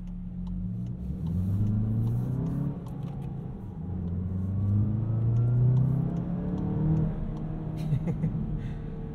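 A 2022 Volkswagen Jetta GLI with a 2-liter turbocharged inline-four and 6-speed manual revs and pulls through the gears, rising and dropping in pitch several times, a steady road rumble underneath, heard from inside the cabin.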